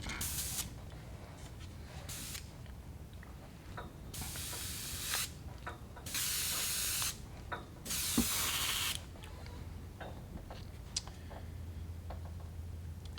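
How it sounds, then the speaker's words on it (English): Airbrush spraying in short bursts while being rinsed out between coats of white and pearl lime green paint on a perch pattern, loud hissing blasts of one to two seconds over a steady low background hum, with brief ticking in between. "I'll rinse the airbrush out a little bit."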